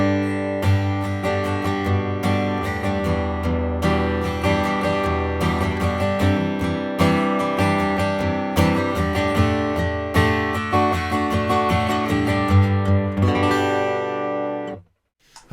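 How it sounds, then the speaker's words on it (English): Acoustic guitar played through an L.R. Baggs Lyric pickup with a narrow notch filter cutting feedback, strummed and picked continuously and fairly loud for about fifteen seconds before the strings stop abruptly and ring out. "So now the guitar sounds like this."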